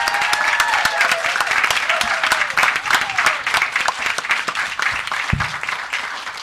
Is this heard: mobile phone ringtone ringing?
no